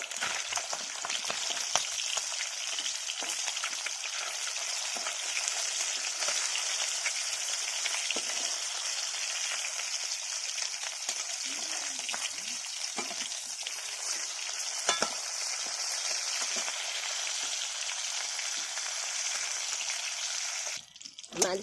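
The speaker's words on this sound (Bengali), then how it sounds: "মাছ ভাজা হয়ে এসছে, এবার মাছটা আমি তুলে নিচ্ছি।" Fish sizzles steadily in hot mustard oil in a pan. The frying hiss is loud, dense and continuous, with a faint clatter near the end.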